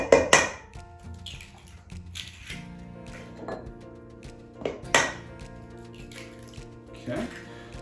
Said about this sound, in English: we're gonna crack those, put those right in the bowl, like so.